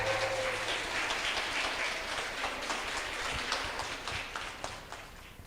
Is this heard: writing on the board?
no